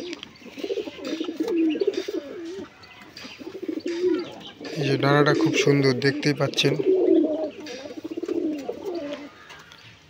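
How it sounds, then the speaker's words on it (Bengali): Domestic pigeons, a breeding pair in a fancier's collection, coo and call close by while someone talks over them; a louder burst of calls and fluttering comes midway. "এই যে পায়রার কোয়ালিটিটা দেখুন।"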